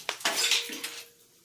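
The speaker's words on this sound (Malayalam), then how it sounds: "ചൂടി ചെന്നപ്പോൾ ചട്ടി പൊട്ടിപ്പോയി." Clay cooking pot cracking from heat on a stove as oil and mustard seeds heat inside: two sharp, close, brittle cracks followed by a short ringing clatter that fades out.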